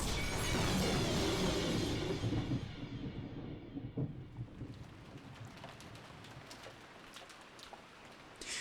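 Thunder and rain in the visual novel Umineko: a loud rolling thunder crash fades into steady rain with occasional softer rumbles.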